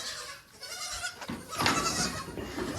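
Baby goats bleating close by on a farm at bedtime, several overlapping cries rising and falling in quick succession with little pause between them.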